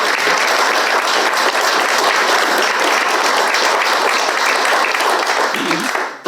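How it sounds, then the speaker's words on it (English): An audience at a talk on religion and identity applauds two archbishops, loud, dense and close clapping that holds steady throughout before cutting off abruptly at the end. "So we'll give you a round of applause."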